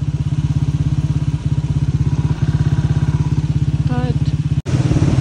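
A Yamaha RX motorcycle engine thumps in a steady, rapid beat while the bike rides along a muddy road, loud and close throughout, with a brief cutout near the end.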